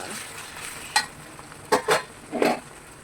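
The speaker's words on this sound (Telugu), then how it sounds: "ఇప్పుడు ఈ ఉల్లిపాయలు బాగా వేగిన తర్వాత" Onions fry in a pan for a beef keema fry, with a soft sizzle underneath. A few distinct scraping stirs of a utensil against the pan stand out over the sizzle.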